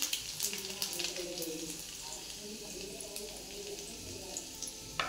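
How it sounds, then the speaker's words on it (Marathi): Mustard seeds, cumin, curry leaves and garlic sizzling and crackling in a spoonful of hot oil for jhunka, a quiet continuous frying hiss with small pops and a voice talking over it. "तेल गरम झाले, आपण ह्याच्यामध्ये टाकून घेऊया मोहरी, जिरं, कढीपत्ता"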